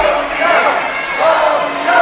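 Crowd at a New Era Wrestling show giving a loud, continuous roar of cheering and chanting that swells and falls in waves, with a commentator talking over it.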